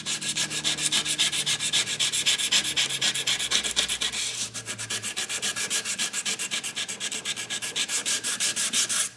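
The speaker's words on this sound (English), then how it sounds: "try and sand always in the same direction so I don't have multiple scratches going all different ways to have to work out with the finer grit" Hand sanding of a knife handle scale with sandpaper, worked in one direction: a steady, close rhythm of quick, raspy strokes repeating evenly throughout, with no talking.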